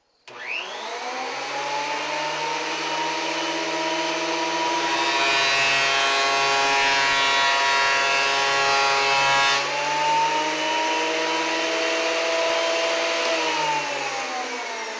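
A woodworking machine rough milling lumber, spinning up into a loud steady whine with a harsher cutting roar in the middle as the board passes through, then winding down.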